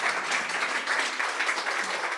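Steady applause from a conference audience at an investment summit welcoming a speaker to the stage, dense and even clapping that fills the room for a couple of seconds.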